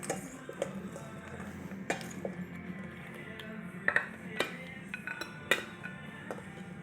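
Salad being tossed in a bowl with fresh ground pepper: scattered light clinks and taps of utensils against the bowl, quiet and irregular, with soft rustling between the knocks.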